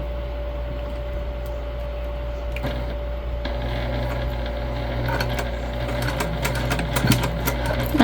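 A sewing machine basts fabric for a date night bag, its steady mechanical hum and rapid needle rattle running continuously and close, with small clicks and fabric handling over the top.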